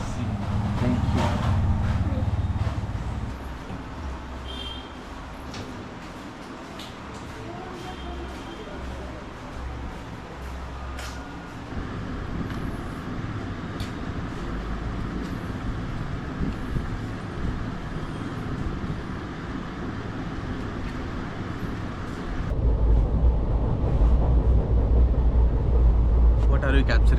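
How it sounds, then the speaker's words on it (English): A passenger train running along its tracks, a sustained low rumble with intermittent clacks and rattles that swells louder near the end, with voices heard talking over it at times. "The train."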